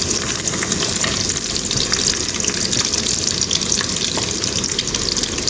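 Sliced onions drop into hot oil in a pan for a ridge gourd gravy, giving a loud, steady, close sizzle and crackle that runs without a break, with no voices.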